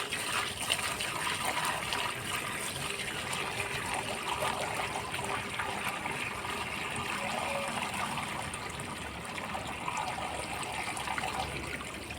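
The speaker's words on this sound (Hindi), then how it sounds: "अभी देंगे प्लांट्स को पानी" Water trickles and splashes steadily while plants are watered at home, a continuous close liquid stream with no talking.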